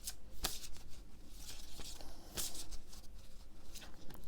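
Oracle cards being shuffled by hand, soft papery riffles and patters with a few sharper snaps, close and fairly quiet with no one speaking.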